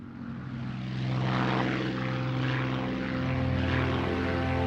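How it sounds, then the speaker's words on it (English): A Supermarine Spitfire in flight, its piston engine droning loud and steady with a rich propeller buzz that swells slightly and holds, with no voices. "Trainee pilot Dave Mallon is in his 4th hour of Spitfire training."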